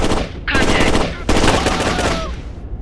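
Loud automatic gunfire in the Rainbow Six: Lockdown shooter game comes in two sharp, rapid bursts separated by a brief gap, with a faint game voice under the shooting.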